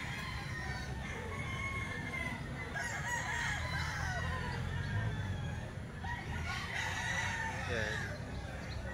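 Many roosters crow and cluck continuously at a gamefowl farm, overlapping calls from near and far forming a steady chorus.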